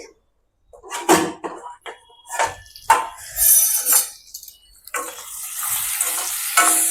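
Mixed vegetables sautéing in a pan before lentils go in: scattered bursts of stirring and clattering, then a steady, close sizzle through the last couple of seconds.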